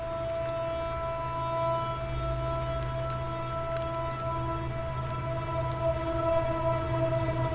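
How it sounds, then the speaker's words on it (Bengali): A train passes near a railway level crossing beside a house, heard as a steady droning rumble with sustained tonal hum throughout, moderately loud and without speech. "আসলে ট্রেনের আওয়াজ। আমার বাসা হচ্ছে একদম রেলগেটের পাশে।"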